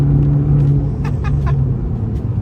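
An Abarth 500 pulls hard at full throttle, its small engine a steady close droning rumble with a faint rising whine, no voices over it.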